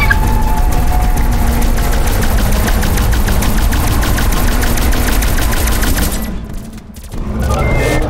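Sustained rapid automatic gunfire in the zombies mode of Call of Duty: Black Ops Cold War, loud and dense with fast repeating shots, briefly cutting out near the end before the din resumes.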